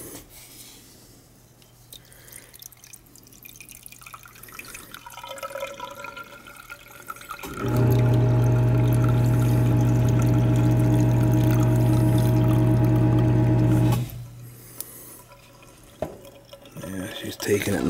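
Water drains from a central AC unit as a condensate pump kicks on for about six seconds, a loud steady humming drone with flowing water. Quieter room noise comes before and after it.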